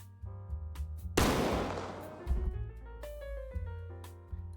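Bomb explosions in the pixel-art game Isometria: a single sharp, loud synthetic blast that decays over a second or two, set against a looping tonal game soundtrack with short percussive notes.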